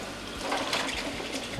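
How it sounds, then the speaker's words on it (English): A pot of water boiling on a stove, a steady close hiss of bubbling and rolling water with no break. "I got a pot of water right over here boiling"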